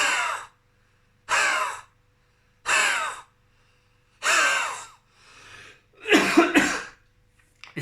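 Breathy throat exhales repeat at intervals, and the last burst breaks into a short, rough cough. The sounds are close, with silence between them.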